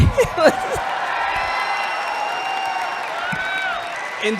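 A large convention audience at a Star Wars fan event cheers and applauds, a broad roar of crowd noise with whoops and sustained clapping, voices and a whistle-like cheer rising through it.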